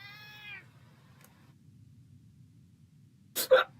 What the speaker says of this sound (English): This cat keeps batting at me.